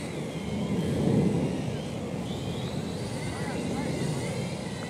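A drone on its first flight hovers above a baseball field. Its propellers make a steady buzzing whine that swells near the start and shifts upward in pitch partway through, while people talk nearby.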